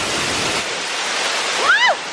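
A waterfall roars with a loud, steady broadband rush, close by. A brief rising and falling whistle-like tone cuts in near the end.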